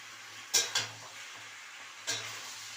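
Spring onion and prawn chochchori being stir-fried in a pan: a soft background sizzle broken by three short scraping stirs, two close together and one later, quiet and near.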